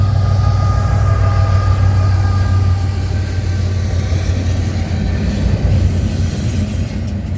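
CPKC 119, a Montreal-to-Edmonton freight train, rolls past Cobourg VIA station in Ontario at night with a loud, continuous close rumble and faint wheel squeal that eases slightly as it goes by.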